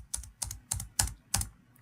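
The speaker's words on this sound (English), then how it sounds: "I'm going to hit the enter button." Keys on a computer keyboard are pressed five times in a steady, evenly spaced series of close, crisp clicks, with no talking.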